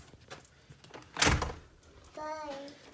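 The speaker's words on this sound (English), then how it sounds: "Close up the doors." A door swings shut with a single loud thud inside a house during a walkthrough, followed by a voice and other people speaking quietly around it.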